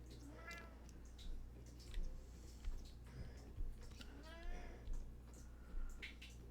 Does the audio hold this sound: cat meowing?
yes